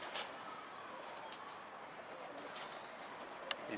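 Pigeons coo softly in a loft while a stray bird arrives, with faint wingbeats and a brief sharp sound near the end, all fairly quiet and distant.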